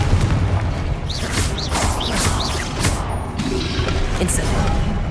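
A Confringo blasting spell exploding in Hogwarts Legacy combat, loud booming crash and rumble layered with swishing magic effects and chirping tones, and a game character's voice over the action.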